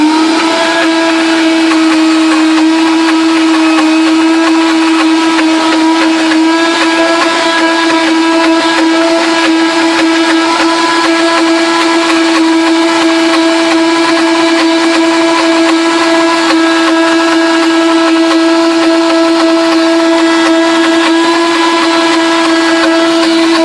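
An Oster Versa blender runs continuously at high speed, churning almond butter with added coconut oil, a loud, steady whine that holds the same pitch with no pauses for the whole stretch.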